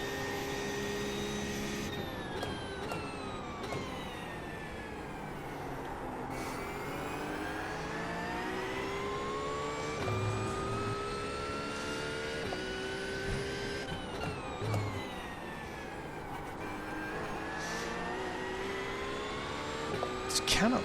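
A Porsche race car in iRacing at Daytona runs at a steady, loud engine drone with rising and falling revs through the gears and some wheel spin. A faint voice talks underneath throughout.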